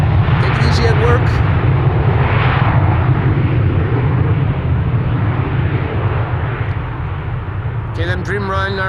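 A KLM Boeing Dreamliner taxis at Amsterdam Schiphol Airport, its jet engines a loud, steady, close rumble with a broad roar that eases slightly toward the end, with brief bursts of talk at the start and finish.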